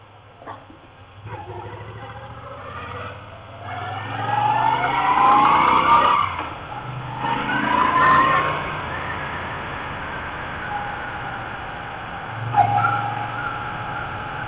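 A 2019 Moto Guzzi V7 III Stone motorcycle rides in second gear, its engine note climbing and holding steady under loud wind rush, then settling to a cruising drone.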